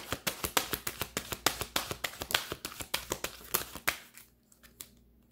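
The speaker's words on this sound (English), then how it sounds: "Let me give it a few shuffles" A deck of tarot cards is shuffled by hand, close up: a quick series of about twenty crisp, evenly spaced riffling slaps that slow and fade to a few soft taps near the end.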